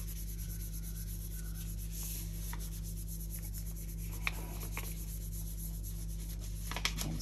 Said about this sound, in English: It's very subtle, so I'm really going to give it a good rub.